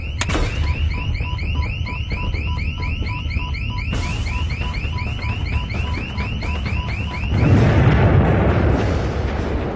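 On the burning Deepwater Horizon oil rig, a loud repeating electronic alarm wails in rapid cycles over a deep rumbling roar of well fire, with a heavier low explosion boom swelling near the end.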